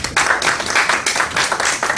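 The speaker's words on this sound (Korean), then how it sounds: "큰 박수 부탁드립니다." An audience at a forum on the candlelight protests claps to welcome the first panelist, close and fairly loud, with a pulsing rhythm of overlapping hand claps.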